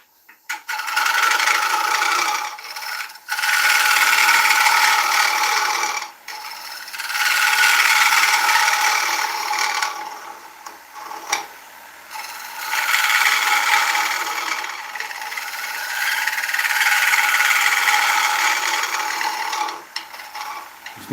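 A wood gouge cuts into oak spinning on a lathe, producing a loud, rasping, scraping hiss in long sustained passes broken by brief pauses.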